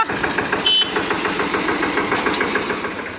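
Tractor engine running close by, a steady rapid mechanical chug with a knocking pulse that holds at even loudness for a few seconds.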